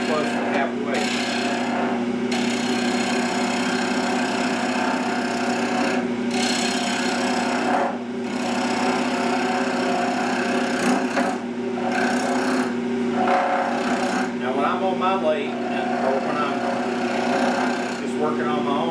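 A new wood lathe turning a multi-axis spoon, a steady motor hum with rough scraping and rasping of the cutting tool against the wood, broken by brief pauses, and someone talking over it.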